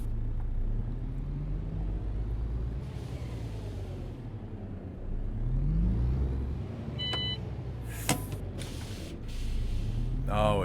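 A truck engine idles in the On the Road truck simulator game, a steady low rumble running throughout with a brief beep and mechanical clicks partway through.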